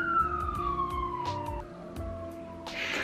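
An ambulance siren wails past with a slowly falling pitch, fairly loud over street traffic rumble and a few brief knocks.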